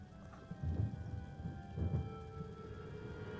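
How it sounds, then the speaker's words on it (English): Rain and thunder from the video game Lollipop Chainsaw RePOP: steady rainfall hiss with two low rolling thunder rumbles about a second apart, moderately quiet and without speech. "Is that rain?"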